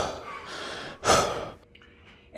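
A deep breath taken during a pause between sets of jumping jacks: a steady inhale, then a loud, breathy sigh-like exhale near the microphone, trailing off into quiet.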